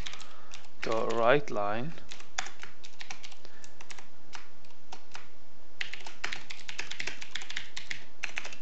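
Keys clacking steadily on a computer keyboard while code is typed, in quick irregular bursts of close taps, with a voice speaking briefly over the start.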